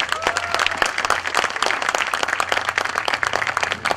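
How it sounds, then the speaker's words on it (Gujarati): An audience claps steadily and densely throughout, a continuous close patter of many hands with no talk over it. "થોડી વધારે તાળીઓ પાડી શકીએ"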